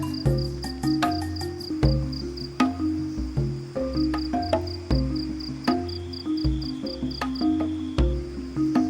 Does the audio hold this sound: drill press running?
no